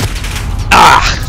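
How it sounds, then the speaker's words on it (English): A short burst of blast noise from a cruise missile explosion in Call of Duty: Modern Warfare, erupting suddenly and loudly midway, then fading into a brief rumbling tail. "Enemy cruise missile incoming."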